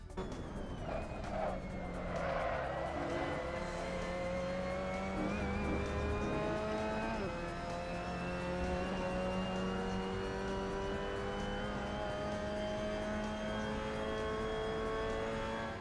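Mazda MX-5 Cup race car on a flying lap of Oulton Park International, heard from onboard: a continuous buzzing engine note rising and falling through gear changes and braking zones, steady and fairly loud throughout.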